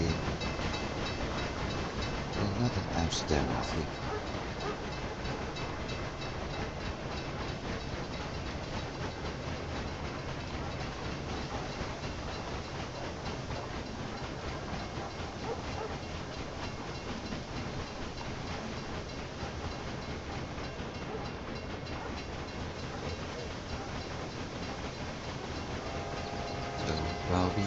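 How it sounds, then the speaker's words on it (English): Passenger train rolling into a station in the railway management game Railway Empire, a steady rumble of wheels and rails running throughout, with someone talking over it. "another train is coming in. That's the passenger train"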